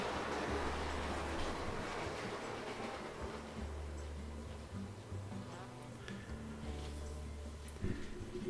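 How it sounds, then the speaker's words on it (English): A model railway locomotive runs steadily on its track, a continuous low rumble with rhythmic clicking that holds at moderate level throughout, with some faint background noise. "This is a nice loco"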